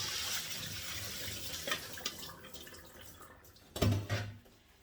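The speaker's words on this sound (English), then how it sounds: "now we're going to drain them right here" Cooked pinto beans are drained in a kitchen sink, water hissing and pouring steadily with a louder splash and gurgle near the end, close and without talk.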